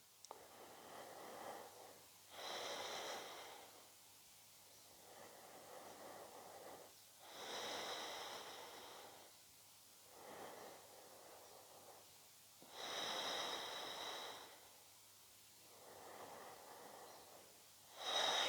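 Slow, deep breaths during a gentle vinyasa yoga practice, about four full inhale-exhale cycles with airy, hissing exhales rising and falling in a steady rhythm, close and quiet with no talking.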